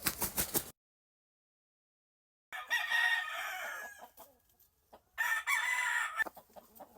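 A gamefowl rooster gives a short burst of clucking, then after a silent gap crows twice in long, loud, close calls, the second ending in trailing clucks.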